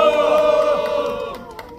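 A crowd at a Goyang Future Vision Network protest rally cheers and shouts together in a loud, sustained roar that gradually fades over about two seconds.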